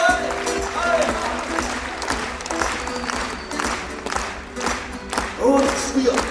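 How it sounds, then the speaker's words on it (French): A crowd in Belfort claps and cheers after a New Year's greetings address, dense applause close and loud throughout, with voices and shouts mixed in. "Applaudissez-vous bien fort"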